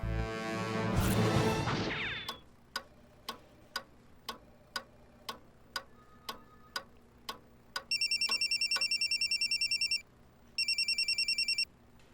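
An electronic telephone ringing in two loud trilling bursts, following a steady series of ticking clicks after a brief louder sound at the start.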